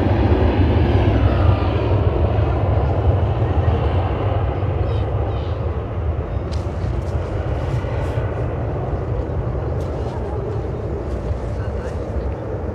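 A TUI airliner, a plain-liveried jet without the usual blue paint, rolls down the runway on its takeoff run; a steady broad engine roar fills the scene, with people talking over it throughout.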